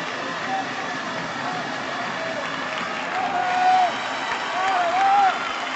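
Crowd in a town square at a Festa Major in Guissona applauding and cheering a completed human tower, a steady wash of clapping with voices rising in two brief swells of cheers.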